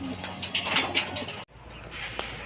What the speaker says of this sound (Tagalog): Tingnan natin mga kalapatids.